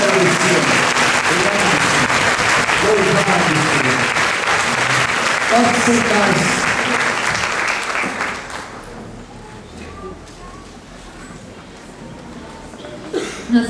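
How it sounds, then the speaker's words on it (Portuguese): A congregation in a parish church applauds loudly and steadily for several seconds, with a voice calling out over the clapping before it fades into a quieter room with coughs and a short spoken word. "Vamos aplaudi-lo."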